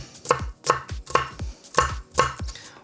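A knife chops through diced vegetable pieces on a cutting board, about seven crisp, close knocks in an uneven rhythm, with no talk.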